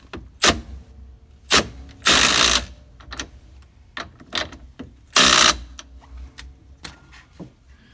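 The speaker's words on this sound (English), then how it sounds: "I'm going to use the impact driver to get it started, and then I'm going to get the torque wrench and confirm the foot-pounds." On a Jeep Wrangler TJ, an impact driver snarls in two loud buzzing bursts as the steering wheel nut is run down, amid scattered clicks and metallic clunks from the torque wrench and handling nearby, with no speech.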